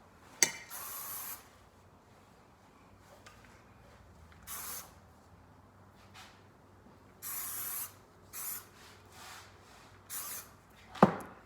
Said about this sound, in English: now I'll give it a little finishing spray